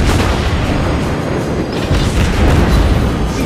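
Heavy naval guns of the battleship HMS Queen Elizabeth fire in the World of Warships Blitz game, a dense, loud barrage of booming blasts and rumbling that runs continuously from start to end.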